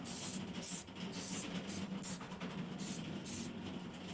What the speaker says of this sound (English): Use a bit of accelerator on it because I don't want to be covered in glue again.